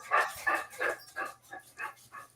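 A dog whimpers and yelps in a run of about eight high, whiny cries, evenly spaced and gradually fading, fairly close and loud with no talking over them.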